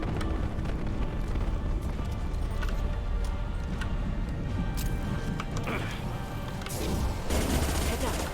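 Gunfire at injection tubes in the sci-fi shooter Mass Effect 2 crackles in rapid bursts and sustained volleys alongside explosive rumbles, with voices talking throughout.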